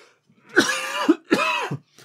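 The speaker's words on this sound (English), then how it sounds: "Excuse me, I'm going to cough again." Two harsh, throaty coughs in quick succession, close and fairly loud, followed by a brief faint catch of breath.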